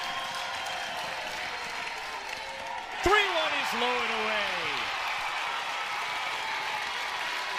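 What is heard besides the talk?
crowd cheering at LSU vs Louisiana softball game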